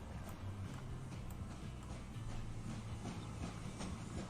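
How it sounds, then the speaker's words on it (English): A locomotive runs along the tracks in the video game Transport Fever 2, giving a faint, steady rolling rumble with light rhythmic clicks of wheels over rail joints. "What a beautiful looking locomotive. Sounds good too."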